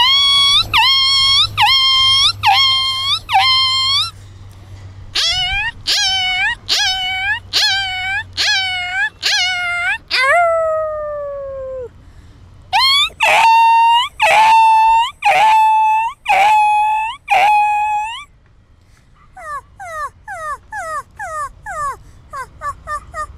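A woman imitates a newborn puppy whimpering for its mother's milk, producing rapid series of high, rising yelps and whines in bursts, close and loud, with a softer trailing set at the end.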